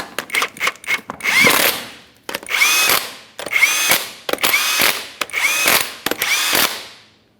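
A power tool, likely an impact-style driver, runs in repeated short bursts and several longer whirring pulls while tightening 21mm lug nuts on a 2004-2008 Ford F-150, loud and close, with sharp clicks between runs.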